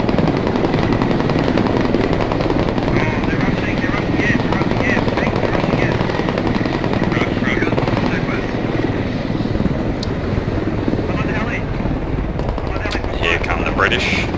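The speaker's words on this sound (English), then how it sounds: "Squad 1's yellow is firing over on the Russians." Rapid machine-gun bursts and scattered rifle shots ring out in a large-scale battle in the video game Squad, with a helicopter droning throughout. The firing is continuous and dense, and a voice talks over it.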